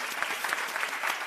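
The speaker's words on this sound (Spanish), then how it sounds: "dale un aplauso a él también." Audience applause at a live science-communication event about podcasts and radio, a steady wash of clapping from a crowd, moderately loud and sustained throughout.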